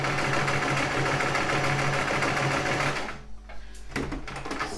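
A sewing machine stitches a straight test line on fabric for a bag, running with a steady, close mechanical whir for about three seconds before stopping, followed by a few short bursts.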